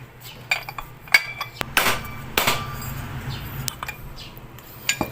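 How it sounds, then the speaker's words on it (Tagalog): A tube wrench clinks and taps against metal parts while working on a scooter's drive, with sharp intermittent metallic knocks and scrapes over a low hum. "Kaya ito yung gagamitin ko, liabi tubo."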